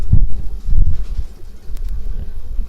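Breeder pigeons kept on a rooftop coo softly in low, repeated bursts close by, with faint wind and a couple of light clicks in the background.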